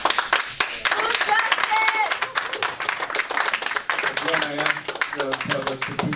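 Audience at a public meeting applauding with dense, sustained clapping throughout, fairly loud, with voices talking underneath and over the claps.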